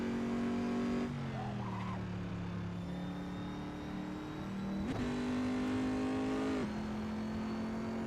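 A race car engine in Assetto Corsa on the Nordschleife drones steadily and loudly, its pitch dipping and rising with shifts and throttle changes, with a sharp transient near five seconds and no voices.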